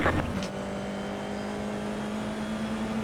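A Formula 4 race car engine in a racing video game drones steadily with a sustained whine, a fast motor sound holding a constant pitch throughout.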